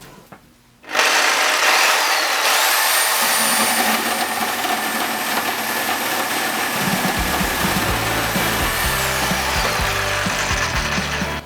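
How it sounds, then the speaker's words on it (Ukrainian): A Dnipro-M reciprocating saw cuts through a 50x80 mm wooden beam with the pendulum action off, giving a loud, steady buzzing roar that starts abruptly and runs for about ten seconds, its tone dropping lower as the blade works deeper. "давайте спочатку спробуємо на брусі 50 на 80. Пробую без маятника спочатку."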